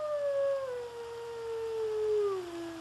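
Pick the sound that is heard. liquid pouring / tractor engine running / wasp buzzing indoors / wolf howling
wolf howling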